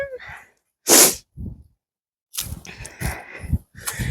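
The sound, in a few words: sniffling and heavy breathing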